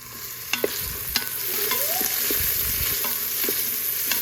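Onions sauté over fairly high heat in a home kitchen pan, a constant close sizzle with a few scraping stirs and light clinks from the spoon.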